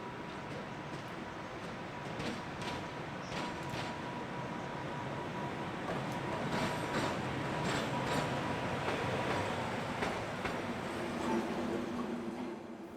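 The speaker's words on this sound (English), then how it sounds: "Four 460-023 is also seen on shunting duties." Locomotive 460-023 on shunting duties, a steady rail rumble with intermittent clanks and squeals running throughout, moderately close and continuous.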